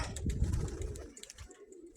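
Pigeons coo softly in a low, throaty murmur, a few rolling calls close by with faint background rustle.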